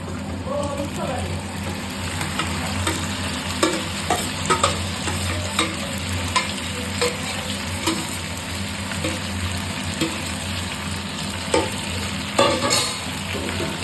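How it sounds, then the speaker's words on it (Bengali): Mutton frying with browned onions in a pan, a steady close sizzle broken by regular scraping clicks of stirring, with a low mechanical hum underneath. "পেঁয়াজটা হালকা হালকা বাদামি রঙের হয়ে গেছে এবার মাংসটা দিয়ে দেবো"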